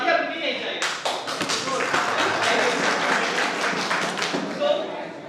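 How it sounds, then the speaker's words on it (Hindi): Audience applause at a youth talent event, a dense burst of many hands clapping that starts abruptly and carries on loud and steady to the end. "अगर आपके दिल तक पहुंच जाए ना तो तालियां रुकनी नहीं चाहिए"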